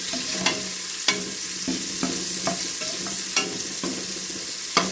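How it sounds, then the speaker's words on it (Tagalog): Garlic for pork and chicken adobo frying in a pan, a steady close sizzle broken by sharp scraping strokes of stirring at irregular intervals, with no talk. "Lagyan ko na po yung bawang. Halo-halo lang po."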